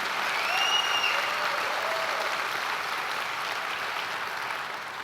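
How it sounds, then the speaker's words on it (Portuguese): A church congregation claps in praise, a dense wash of applause that starts full and slowly thins and softens, with faint tonal sounds drifting over it early on. "Pode aplaudir ao Senhor Jesus."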